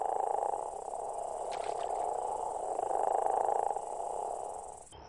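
Leopard toads calling in a steady snore-like drone amplified by throat sacs, a continuous low rattling purr that holds for several seconds before cutting off abruptly.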